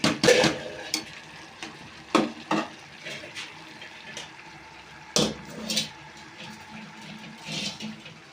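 Chicken pulao rice being stirred in a pot as its water cooks off, with irregular scraping and stirring strokes and soft bursts of sizzling and bubbling between quieter stretches.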